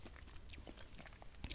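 Crisp, close crunching of toast being chewed at a breakfast table in an ASMR setting, a quick run of bites and grinding crunches, quiet but right at the mic, with no talking.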